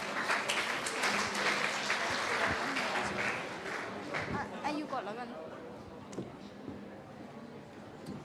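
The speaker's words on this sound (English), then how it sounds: "Please give them a round of applause." Applause from an audience at a school club expo, greeting the Dermatology and Beauty Surgery Club, steady and fairly loud at first then easing, with chatter and voices mixed through it.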